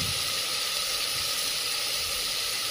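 A large potato sautéing with spices, with a steady, close hiss and sizzle running evenly from start to finish, alone with no voices.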